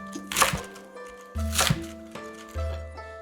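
Chinese cabbage cut into thick strips on a board: three distinct chopping cuts spaced about a second apart, each a crisp crunchy thud, close and clear with quiet gaps and no talking.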